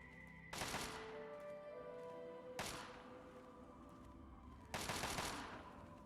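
Three separate gunshot bursts from a firing range in Fallout 3, each a sharp crack trailing into a long echoing decay, spaced a couple of seconds apart and fairly distant within a quiet outdoor scene.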